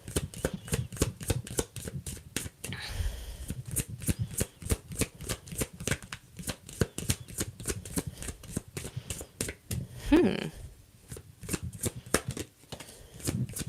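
Tarot cards are shuffled continuously in rapid riffling bursts, a close, crisp flutter that repeats in quick rhythmic waves throughout.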